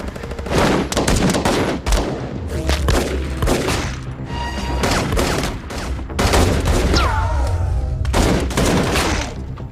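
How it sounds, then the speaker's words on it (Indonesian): Rapid gunfire in a film shootout: dense bursts of automatic-weapon and pistol shots crack loudly and continuously, with overlapping fusillades and brief echoing tails, alongside some cinematic whooshes and impacts. "Baku tembak pun terjadi dan James bersama Michael berhasil menjatuhk"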